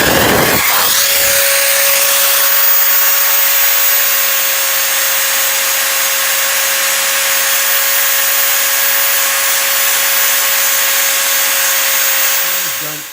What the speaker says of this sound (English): So that was done with just one hand holding the drill